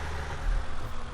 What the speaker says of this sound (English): this is the loud tractor.